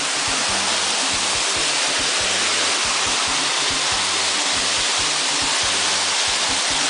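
Tat Bong waterfall, roughly 7 meters tall, plunging from a cliff to the pool below at midday, gives a loud, steady broadband roar that never lets up, with no voices over it.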